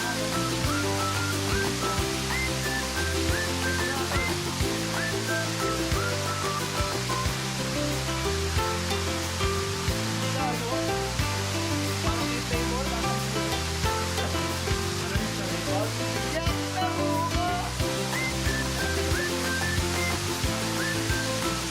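A waterfall at Paraiso in Natividad, Pangasinan pours in a steady, loud, close rush of broadband water noise that never lets up, with no voices.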